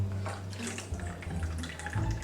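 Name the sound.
water pouring from a jug into a basin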